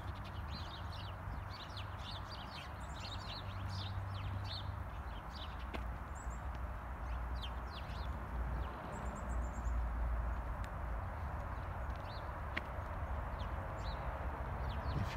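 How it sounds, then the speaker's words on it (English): Birds sing outdoors with no traffic nearby, several small chirping calls scattered through a steady, noisy ambient background. "can you even tell how many birds you're supposedly hearing?"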